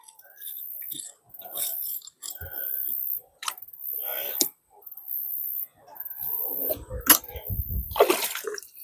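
Suction dredge pulling gravel and water up off bedrock in an Indiana creek while gold prospecting, heard as intermittent gurgling, slurping bursts with gaps between and a louder turbulent rush near the end, close to the microphone.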